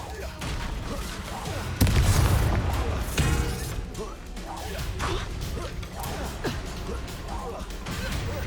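An Expulso spell explodes in the Hogwarts Legacy video game as one loud blast and crash, followed by rumbling debris and further combat impacts. A voice talks over the sounds.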